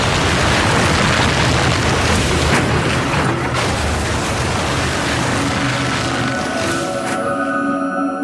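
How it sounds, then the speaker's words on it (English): A loud, sustained roar of an airplane crashing into a muddy field short of the runway, crashing impact and tearing debris, broadband rumbling that stays heavy throughout with sharp bursts within it. "The plane hits a muddy field well short of the runway."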